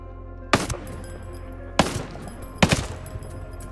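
Gunfire in the video game Ghost Recon: Breakpoint, three sharp loud reports spaced unevenly, each with a short ringing tail, with no talk.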